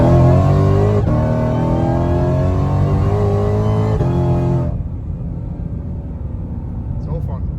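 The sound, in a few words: 2020 Ford Shelby GT500 accelerating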